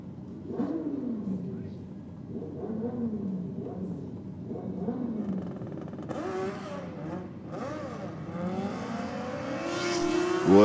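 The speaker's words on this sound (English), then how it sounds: "there's a couple of goes at the throttle there for the rider in the Airflow Lane" The engine of a drag racing motorcycle on the lane rises and falls in a few throttle blips, growing louder and rougher toward the end as a commentator talks over it.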